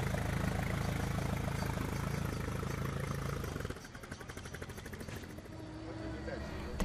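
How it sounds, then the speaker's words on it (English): Vintage rally cars, including a 14.5-litre fire engine chassis and a 100-year-old Ford Model T, idle and rev at the start of the Peking to Paris rally, a dense steady engine rumble with people talking over it. "The cars began to rev up, one leaving every 30 seconds."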